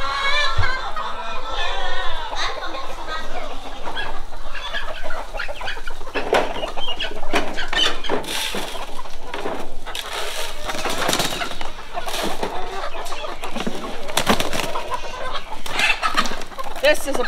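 Chickens clucking in a barn at feeding time while goats are fed grain, a busy, continuous stream of clucks and bird calls close by, with scattered bumps and rustling and occasional talk.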